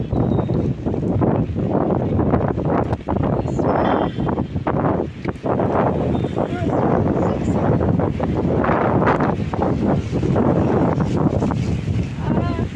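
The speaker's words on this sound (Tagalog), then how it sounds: "Kakusog sang ulan. Ay hindi, kakusog sang hangin." Strong wind with rain outdoors near a street plaza roars across the microphone in heavy, continuous gusts, loud and turbulent throughout, with faint voices underneath.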